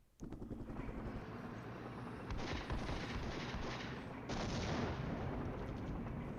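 Artillery fire in the wargame Flashpoint Campaigns: after a brief quiet start, a loud continuous barrage of booming blasts and rumble, swelling in two stages and holding steady without talk.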